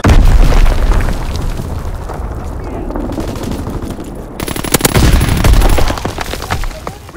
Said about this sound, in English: Fritz X bomb mission underway!